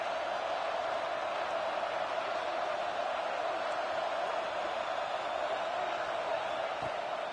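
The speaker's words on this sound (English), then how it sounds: "Guns up and so is the noise. The crowd electric trying to help tack on this third down." A stadium crowd in a college football video game roars in a continuous, dense wash that stays even and loud throughout, with no clear individual voices standing out.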